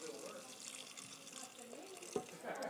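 Broth splashes and trickles into a stainless steel Fagor 6-quart multi cooker over chowder ingredients, a soft, close, continuous pour with a brief clunk near the end.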